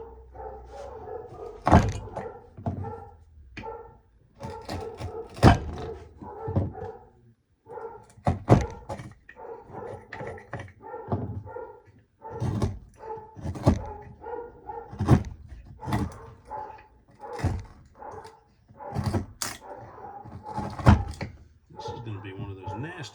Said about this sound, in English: there's my dog telling everybody that our mail carrier is coming to the door to pick up packages